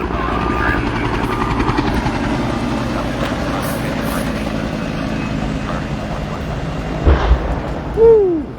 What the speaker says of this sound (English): Pretty loud explosion over there.